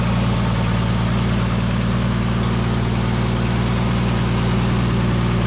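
A Plymouth car engine runs off its factory fuel tank in a steady, loud, even idle with a constant low throb and no speech.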